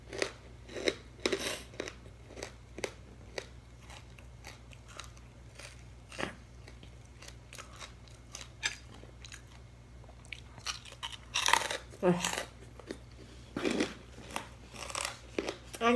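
Hard, undercooked fried kerupuk crackers bitten and chewed up close, with irregular sharp crunches and crackles scattered across the stretch over a low steady hum, no talking.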